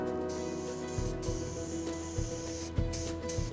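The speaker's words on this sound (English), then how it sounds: "I spray both sides, wait for them to go tacky, and then commit to the stick." Spray adhesive hisses onto fabric and foam in short bursts, with clicks and rattles from the can and nozzle mixed into a steady broadband spray close to the mic.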